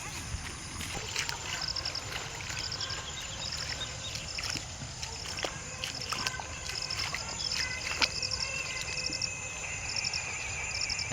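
Floodwater flows fast past a bridge during heavy rain, making a steady, even rush that runs without a break. Insect chirping sits faintly above it.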